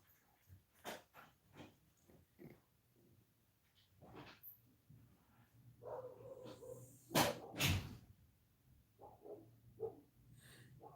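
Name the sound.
dogs barking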